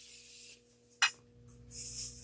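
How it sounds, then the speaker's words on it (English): Morphe makeup setting spray misted onto a face, a short hissing burst from the bottle with softer spray noise around it, close and clear against a quiet room. "now I'm going to set my face with my Morphe setting spray."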